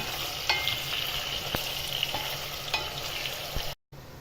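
Chopped onions, freshly salted, sizzle steadily in a pan for Ukrainian-style pilaf, with a few light stirring clicks over the continuous hiss and a brief dropout near the end.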